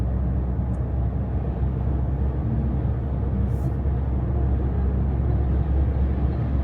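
Car driving on the highway, a constant low road and engine rumble with broadband tire noise, steady and close throughout with no talk.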